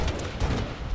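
Gunfire in a 1v1 first-person shooter match, a dense, loud burst of overlapping shots filling the whole short moment with no voice over it.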